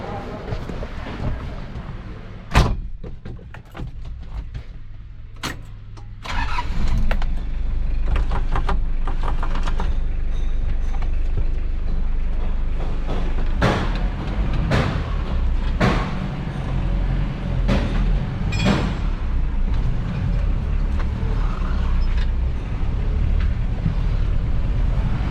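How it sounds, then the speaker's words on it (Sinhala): Mitsubishi Pajero jeep, freshly repaired chassis, driving on a road test: steady loud engine and road rumble with wind buffeting the microphone, rising after a quieter idle start, with sharp knocks and bumps throughout. "අපි ටෙස්ට් රයිඩ් එකක් දාලා බලමු මොකද වෙන්නේ කියලා."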